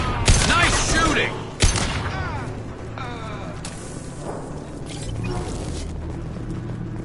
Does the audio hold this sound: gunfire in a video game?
yes